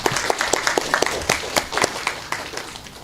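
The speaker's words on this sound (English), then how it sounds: "So let's give our judges a round of applause." Audience applause for the judges at a student debate, a dense burst of many hands clapping with sharp individual claps standing out, fairly close and loud before tapering slightly toward the end.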